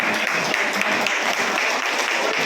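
Steady, dense clapping from a crowd at a farmers' association gathering fills the whole short stretch, loud and even with no break.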